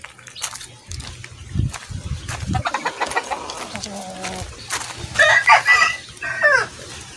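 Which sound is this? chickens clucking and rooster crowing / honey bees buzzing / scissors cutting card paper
chickens clucking and rooster crowing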